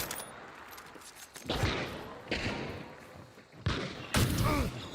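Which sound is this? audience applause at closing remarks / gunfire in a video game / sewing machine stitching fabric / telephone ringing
gunfire in a video game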